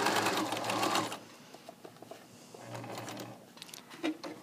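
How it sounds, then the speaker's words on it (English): Sewing machine stitching two pieces of elastic together for a waistband casing: a close, buzzing run of stitches, a pause with light handling clicks, then a second shorter stitching burst. "We're sewing on two pieces of elastic together."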